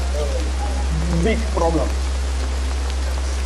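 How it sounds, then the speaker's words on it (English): Heavy rain falling steadily during a prolonged downpour, a constant dense hiss with a low rumble underneath, while someone speaks briefly over it. "the rain has not stopped but since yesterday"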